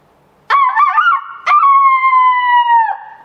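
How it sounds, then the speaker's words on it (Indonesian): A rooster crows twice with no one talking: the first call is broken and stuttering, and the second is a long, steady, falling cry that drops off sharply at the end. The calls are loud and close. "Iya betul, suara ayam."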